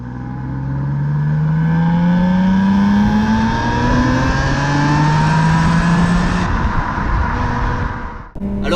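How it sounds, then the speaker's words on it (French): A BMW Z3 M Coupé with a 321 hp six-cylinder engine and quad exhaust revs loudly and close, its pitch climbing steadily through a long rising pull with a metallic edge. It then cuts off sharply near the end, alone without talk. "on a la quadruple sortie d'échappement à l'arrière qui délivre un son super métallique"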